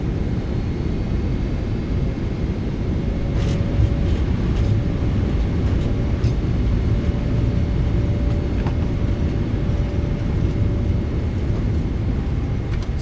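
A PMDG 777 airliner's thrust reversers roar on landing in a flight simulator, a loud, steady broadband rush of engine noise with a faint tonal whine, sustained without speech.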